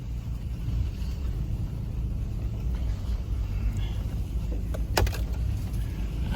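A truck drives slowly over muddy, icy, partly frozen ground, with a low steady engine rumble close by, a few faint cracks and clicks, and a brief sharp knock near the end.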